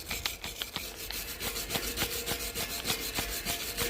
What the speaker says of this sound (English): Get rid of the weld residue on all the welds